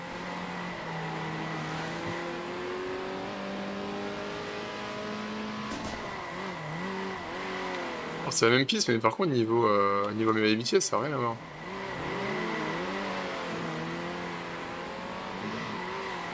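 A Formula 1 car's engine in the Circuit Superstars racing game drones steadily throughout, rising into a louder, revving burst in the middle, while a person talks over it.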